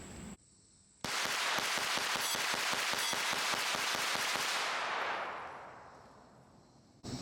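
Rapid pistol fire from a Springfield Prodigy DS Comp at a shooting range, a fast even string of about twenty sharp cracks in under four seconds, close and loud, ringing out into a long decaying echo.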